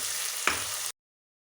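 Crushed green chili, garlic and curry leaves sizzling in oil in a pan, a steady loud hiss with one brief stir scrape midway, then cut off abruptly to silence.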